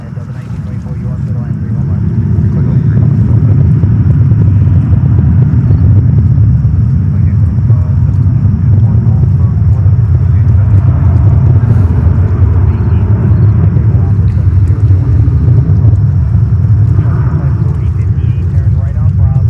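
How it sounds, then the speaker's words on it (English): A JetBlue Airbus A320 departing a New York airport for Santo Domingo, heard as a loud, steady low jet roar that swells in over the first couple of seconds and holds throughout, with no talk. "JetBlue 320."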